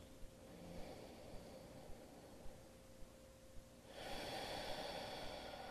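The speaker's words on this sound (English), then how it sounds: "Big breaths in and out of the nose." Slow nasal breathing during a beginner yoga stretch, soft regular breaths in and out through the nose, close and quiet over faint background hiss.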